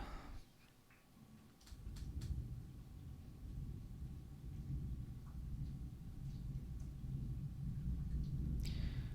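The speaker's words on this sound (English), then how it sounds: "we've got thunder shaking the house too" Thunder rumbling over an old house during a storm with floods around, a low steady roar that builds after a quiet start and holds for several seconds, distant and muffled, with faint scattered clicks on top and no talk.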